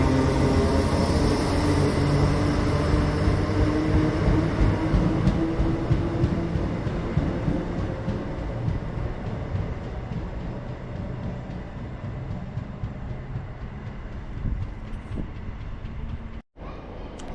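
A train runs through Bolton station, a long loud rumble with sustained tonal hum and rail noise that slowly fades over about seventeen seconds, no talking.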